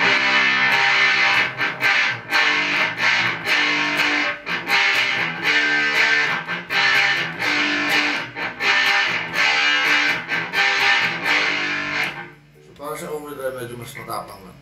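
Electric guitar through a distortion effect, playing loud, gritty chords and riffs for about twelve seconds before cutting off into quieter sound.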